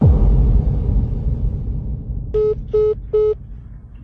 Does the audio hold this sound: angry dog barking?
no